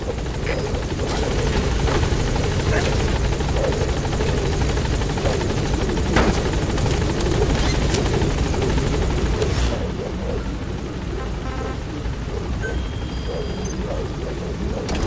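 A helicopter in Metal Gear Solid 5 thunders steadily and close, its dense rotor drone holding at full loudness before easing slightly near the end.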